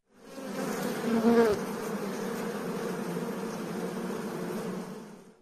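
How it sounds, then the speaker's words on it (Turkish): A steady, dense buzzing of many honeybees swarming close by around hives in Ardahan, continuous throughout with a slight swell near the start. "Arı kovanlarını Ardahan'a taşımak için son hazırlıklarını sürdürüyorlar."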